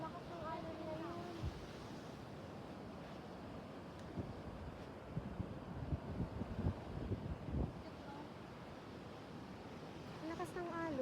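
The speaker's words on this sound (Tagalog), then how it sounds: "Ang lakas ng alon niya yun." Steady roaring ocean surf at Bolinao fills the clip, with strong rushing waves and wind buffeting the microphone, and a few indistinct voices faintly underneath.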